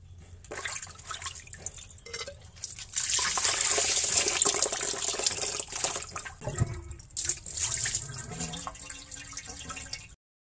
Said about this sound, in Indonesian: Ini sudah bersih dan bersiap dibilas sekali lagi.